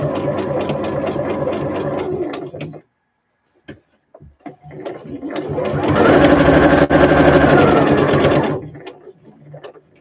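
A sewing machine runs in two loud, steady bursts of rapid mechanical whirring stitches, close by, with a short pause between them filled with brief clicks and someone talking quietly.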